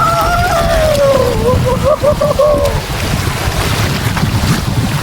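Strong wind buffets the microphone at the sea at Nakai, a loud continuous roaring rush with a brief voice-like tone rising over it early on before the wind carries on alone.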